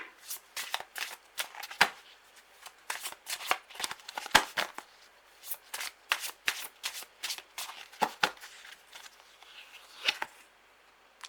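Tarot cards shuffled by hand for a reading, a long run of crisp, rapid riffles and slaps that come in quick bursts with brief pauses, close and fairly loud, with no talking over them.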